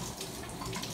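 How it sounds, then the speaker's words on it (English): Water runs from the tap of a bathroom utility sink as sports equipment is rinsed off, a steady close hiss of flowing water filling the whole short moment without any talk. "I'm going to go rinse this guy off in the utility sink in the bathroom"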